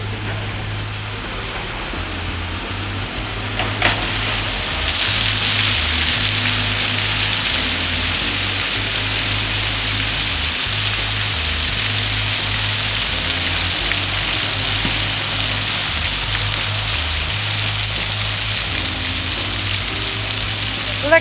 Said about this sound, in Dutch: Lekkere regenbuitjes zo.